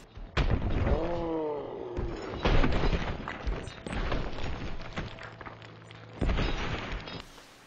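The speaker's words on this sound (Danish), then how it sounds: "Min hest trillede ned over mig." Horse tumbling over its rider in Red Dead Redemption 2, a run of loud heavy thuds, crashes and rough impacts with a groaning, whinnying cry early on, settling into rumbling scuffles before a final bump.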